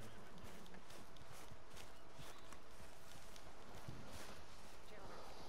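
A horse walks with steady clip-clop hoofbeats in the open-world western game Red Dead Redemption 2, mixed with ambient game sound and a voice talking over it.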